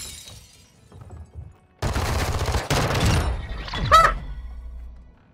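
Gunshots crack in a first-person shooter game, a few faint pops at first, then a loud dense burst of rapid fire with shattering, ending in a sharp ringing hit before a low fading tail.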